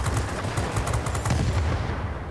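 Rapid aircraft gunfire in World of Warplanes from an S199 fighter's twin 20 mm cannons and .50 cal machine guns, a loud continuous burst of dense rattling shots that ends abruptly, with no talk.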